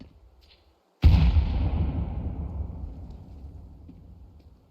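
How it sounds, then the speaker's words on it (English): Grenade explosion in the video game CS2: after a quiet moment, a single sudden loud blast booms up close, then its rumble slowly fades over several seconds. "Grenade."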